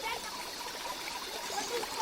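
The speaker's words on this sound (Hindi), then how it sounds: "सबसे पहले एक पानी का झिरिया है।" A small spring trickles in a forest, a soft continuous burble of running water with faint splashes, low in level and steady across the short stretch.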